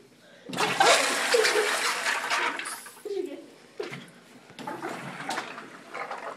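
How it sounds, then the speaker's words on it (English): A toilet flushes in a dirty bathroom, a loud rushing swirl of water starting abruptly and running for a few seconds, then gurgling and refilling splashes, with people talking over it. "Totally flush that."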